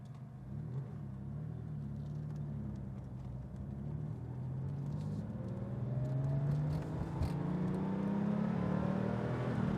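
A 1988 Porsche 911 Turbo driving in second gear, its engine rumbling and whirring steadily from inside the car, pitch climbing gradually as it accelerates and grows louder toward the end.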